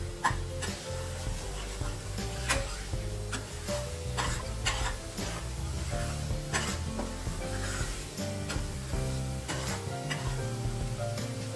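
Kitchen masala and turmeric sautéed in hot oil in a pan for a Maharashtrian prawn curry (kolambi rassa). A steady sizzle runs throughout, broken by repeated stirring scrapes and faint clinks of the utensil against the pan.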